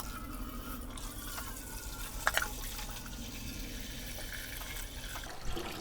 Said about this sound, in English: then we'll fill it with water and start heating it.